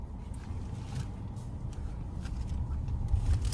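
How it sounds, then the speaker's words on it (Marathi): A Hyundai Creta being driven, with a steady low engine and road rumble that swells slightly toward the end, heard from inside the car with no talking. "तर मित्रांनो, मी आता घेतलेली गाडी मी चालवतो."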